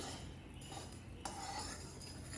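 Roasted sewian (vermicelli) with sugar being stirred in a pan, a utensil scraping and clinking against the metal in a steady, close, continuous rhythm with no talking.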